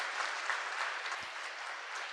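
An audience at a children's school event applauds the teachers, a brief burst of steady, even clapping at moderate distance with no voices over it.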